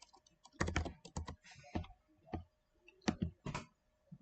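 Keys clatter on a computer keyboard in quick, uneven bursts of clicks, faint and close, with short pauses between runs of typing.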